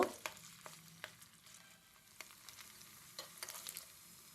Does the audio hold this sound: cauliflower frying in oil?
yes